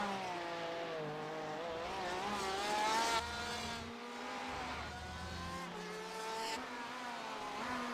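A Porsche race car in iRacing at Circuit Gilles Villeneuve revs loud and close through the whole stretch, its engine pitch rising and falling through gear changes, with brief tire squeal on corner exits.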